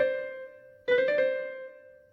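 An inverted turn ornament is played as four quick notes on a single melodic instrument, a held tone followed by a rapid four-note figure that rings and decays, alone and fairly quiet.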